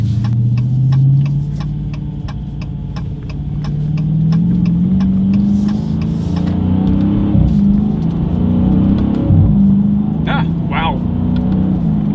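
A 2021 Dodge Challenger Scat Pack accelerates hard through paddle-shifted gears. Its loud, steady engine rumble rises in pitch and breaks at each quick gear change.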